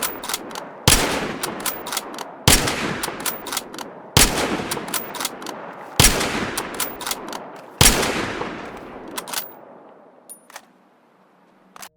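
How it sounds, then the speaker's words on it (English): Five loud, widely spaced rifle shots ring out from an SRS sniper rifle in Battlefield Hardline, each a sharp close crack with a lingering echoing tail, the last fading into near silence. "We also have the SRS sniper rifle, which I do believe is available to all classes"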